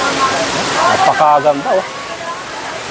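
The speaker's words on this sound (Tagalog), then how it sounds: "Ang ganda nitong Dream Falls na ito." Dream Falls in Luisiana, Laguna, gives a steady, full rush of falling water throughout. Someone speaks briefly over the roar.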